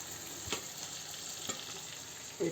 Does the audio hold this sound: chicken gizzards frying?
yes